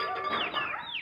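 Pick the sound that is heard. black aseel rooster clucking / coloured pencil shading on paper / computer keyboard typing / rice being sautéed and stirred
black aseel rooster clucking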